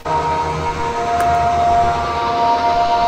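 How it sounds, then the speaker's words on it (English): Dense, ringing metallic feedback-loop tone processed through an amp, Effectron and Lexicon, with a sustained whine and a gritty wash, loud and continuous with no voices. "I can hear the Marshall time modulators bringing that metallics element to the sound."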